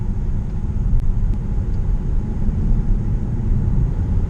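A Mitsubishi Outlander plug-in hybrid gives a steady low engine rumble, quiet and smooth, with a faint rise as it gently picks up speed; no voices.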